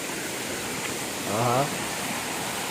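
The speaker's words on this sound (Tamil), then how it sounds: "ஐயோ, வா, எவ்வளோ பெரிய அருவிங்க" Paalapattu waterfall pours as a constant broad roar of falling water in the background while a man briefly exclaims in Tamil over it.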